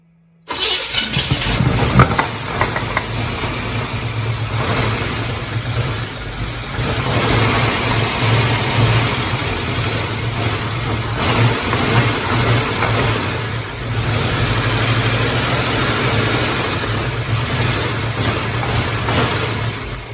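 A car that sat for 25 years cranks and catches, then its engine runs loud and rough close by, revving in surges and settling between them, with no talk over it.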